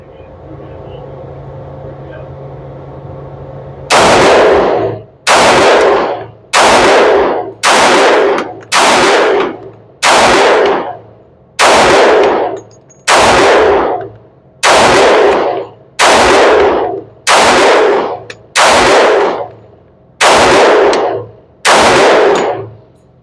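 Glock 20c 10mm pistol emptying a magazine, about fourteen loud, sharp shots spaced roughly a second apart, close and booming with short ringing tails.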